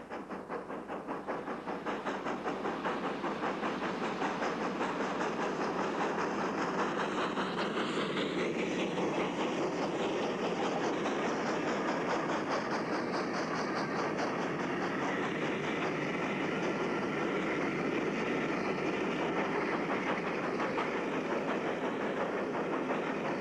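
A GWR Hall class steam locomotive departs with a train from a station near the River Usk bridge in South Wales, its steady, loud rumble and rolling wheel noise continuing throughout, with a rising whistle-like tone partway through.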